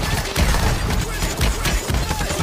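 Shotgun fire in a video game: a rapid series of loud, punchy blasts and booms packed close together over a couple of seconds, mixed with other game noise.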